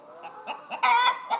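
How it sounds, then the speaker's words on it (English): A Speckledy hen clucking in a series of short, close calls, building to one longer, louder squawk before a final cluck. "She's just about the biggest chicken we have."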